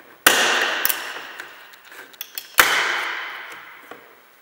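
A plastic removal tool pries the door trim off a Volkswagen Passat B6, giving two sharp cracking pops of clips releasing, each followed by a rattling scrape, with a few lighter clicks between them and no talk.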